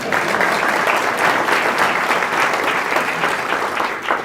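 A crowd at a Cleveland City Council event breaks into loud, sustained applause, dense clapping filling the room for several seconds.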